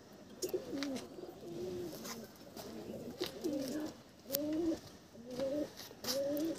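Desi pigeons in a loft coo repeatedly in low, rolling phrases at a steady pace, close by, over faint background clatter.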